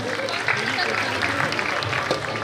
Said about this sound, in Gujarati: જોરદાર તાળીઓથી એમને વધાવશું.